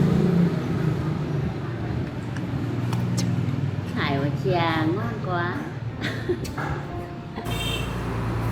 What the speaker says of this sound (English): This is a vehicle delivering items that people ordered online.